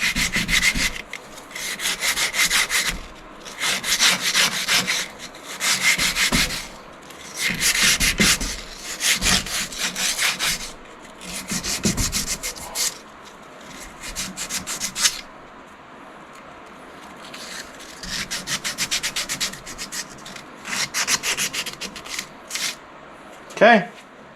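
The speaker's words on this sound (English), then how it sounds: "Then I need to sand all the rust out of here with some emery cloth." Hand sanding with emery cloth to scour rust from a metal part on a lowered Dodge D150 truck: repeated rhythmic rubbing strokes in bursts, close and fairly loud, with brief pauses between sessions.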